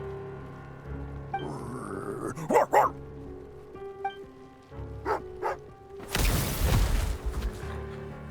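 A dog in the video game Genshin Impact barks in a few sharp bursts and growls low between them, close and loud, set against game music and ambient sound effects.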